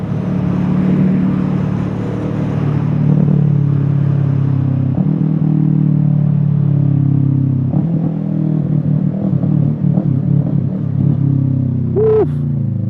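A 2017 Kawasaki Ninja 650L motorcycle riding along, its engine a steady low droning rumble with slight shifts in pitch, loud and continuous, plus a brief high squeak near the end.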